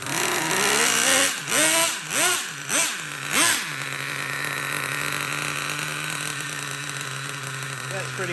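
A Revo 3.3 RC nitro engine, a barn-find truck under repair, blips through several sharp revs in a row, then settles into a steady, buzzing idle that runs loud and close throughout.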